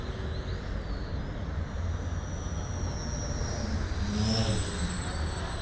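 A mini quadcopter drone flying acro whines steadily at a moderate distance, its pitch rising and swelling briefly as it passes nearer.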